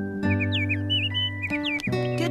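A little bird in an animated children's show chirps as it flies off, giving a string of quick, bright, twittering whistles over a steady low musical drone.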